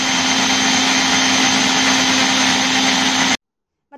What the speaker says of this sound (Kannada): ಇದನ್ನು ಮಿಕ್ಸಿಗೆ ಹಾಕಿ ನೈಸಾಗಿ ಈಗ ರುಬ್ಕೊಂಡು ಬರೋಣ.